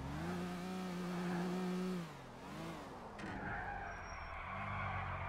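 Tires squeal in a long skid from a car in GTA IV, loud and close over a droning engine whose pitch rises and falls, then a short crunch and a thinner whine as the car straightens out.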